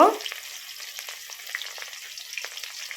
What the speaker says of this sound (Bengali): কাঁচা লঙ্কা পেঁয়াজ দিয়ে খুব সুন্দর করে কিছুক্ষণ লাল করে ভেজে নেব বন্ধুরা